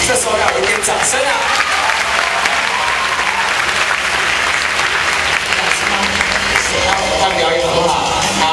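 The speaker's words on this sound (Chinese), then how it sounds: "这时候要有一点掌声啊！" Loud, dense audience applause rings out continuously at a university taekwondo club's freshman-night demonstration. A voice speaks over the clapping.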